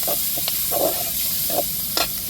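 Garlic and chopped onion sautéing in a pan, an even close sizzle punctuated by several short stirring scrapes, with no talking.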